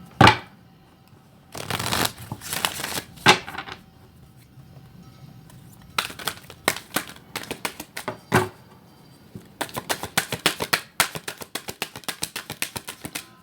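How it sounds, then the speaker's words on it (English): Tarot or oracle cards being shuffled in several quick riffling bursts separated by short pauses, close and crisp, with light tapping between shuffles. "It's really manageable to shuffle the deck."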